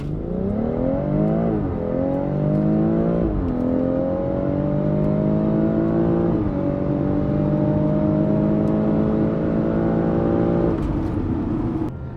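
A BMW X3 M40i SUV engine revs hard in a launch, its pitch climbing then dropping with each of several gear shifts, loud and close throughout.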